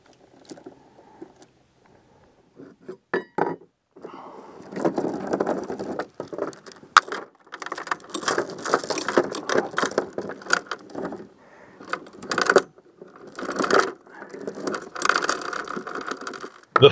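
Anchor chain is hauled in aboard a boat on Lake Champlain, loud clattering, ratcheting links arriving in irregular bursts with short pauses between pulls.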